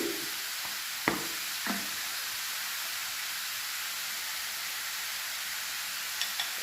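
Bottle gourd pieces frying in a pan on low heat, giving a steady, soft, even sizzle throughout with a few faint clicks of stirring.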